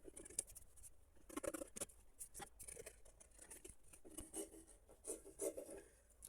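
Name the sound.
cutting fabric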